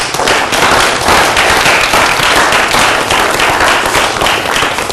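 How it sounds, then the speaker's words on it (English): An audience at a pitch competition results event breaks into loud, dense applause, a continuous wash of clapping that holds steady at full strength from start to finish. "let's give a round of applause to everybody"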